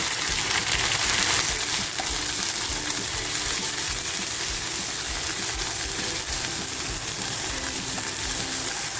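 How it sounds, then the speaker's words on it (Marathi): Spicy green chili thecha paste hits hot oil for a chicken thecha dish, producing a loud, continuous frying hiss that holds steady throughout with no talking. "त्याच्यामध्ये हा टेका जो केला आहे तो अगोदर टाकून फ्राय करून घेते"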